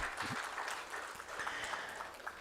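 An audience at a performance marketing conference gives a steady round of applause, moderately distant and even, welcoming a speaker to the stage.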